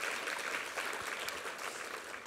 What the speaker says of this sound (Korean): 우리 함께 수고한 모든 분들에게 한번 격려의 박수를 부탁합니다